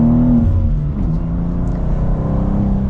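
A 2024 BMW M2 with six-speed manual accelerates in second gear, its engine note a steady, close, loud drone with a slight dip in pitch around the first second before pulling on evenly.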